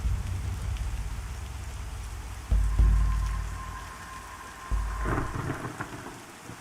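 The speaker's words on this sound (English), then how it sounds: "Let's listen to that beautiful rain." Steady rain and rumbling thunder in the Pantheon: Rise of the Fallen video game, a constant downpour hiss with two heavy thunder cracks rolling in midway and a later softer rumble, no talk.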